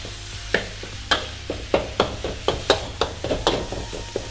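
Thai basil stir fry being worked in a pan with a chopping, lifting and flipping motion: a steady run of sharp metallic scrapes and taps, roughly two per second, close and loud over a low sizzle, with no talking.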